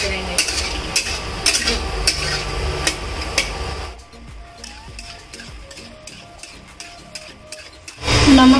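Taro root (arbi) frying in a pan while a utensil stirs and scrapes it, giving repeated clinks and scrapes over a soft sizzle, then a louder burst of noise right at the end.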